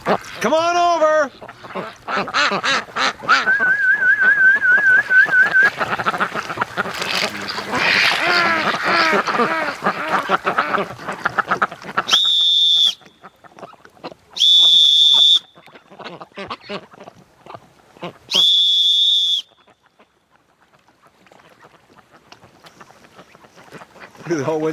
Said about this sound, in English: They can't make out what that new whistle sound is all about.